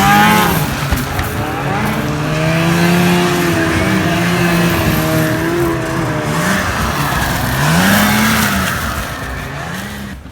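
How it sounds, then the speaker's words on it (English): Snow bike engines rev in the cold on a snowy morning, a continuous loud motor drone with rising and falling pitch sweeps and repeated throttle blips throughout, no talking. "we're just getting the snow bikes out so we can get the day started"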